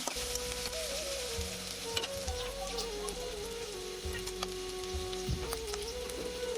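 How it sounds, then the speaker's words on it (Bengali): A tablespoon of ginger garlic paste fries in a pan with a constant sizzle, punctuated by regular scraping and tapping strokes as it is stirred, with a faint hum behind. "আদা রসুনটা ভালোভাবে নাড়াচাড়া দিয়ে আমি ভেজে নিচ্ছি"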